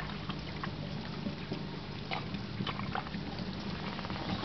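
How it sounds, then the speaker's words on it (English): Water from an aquaponics bell siphon drains and splashes steadily into a fish tank holding fish and yabbies, a close, continuous bubbling and pouring wash with no voices. "You can see it's splashing down, blowing plenty of bubbles for the fish and the yabbies."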